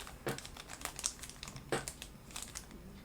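Plastic bags from a 1965 Ford Falcon Ranchero pickup model kit crinkle and rustle close by, a run of sharp irregular crackles with louder bursts, no voices.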